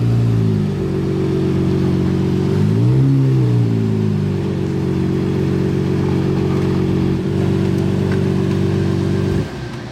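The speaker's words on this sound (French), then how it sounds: "Ça résonne fort le V12, hein." A Lamborghini Murcielago Versace edition with its V12 engine rumbling loud and near, a deep steady idle with a brief rev swell early on before settling back, then cutting off at the very end.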